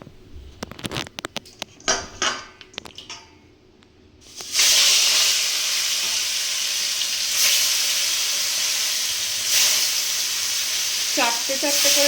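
Katla fish pieces hit hot oil in a wok, setting off a loud, sudden, continuous sizzle that holds steady, preceded by brief clinks and handling noises with quiet talk.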